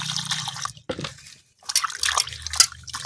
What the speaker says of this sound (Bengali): আরও আরেকবার জল দিয়ে ধুয়ে নেব।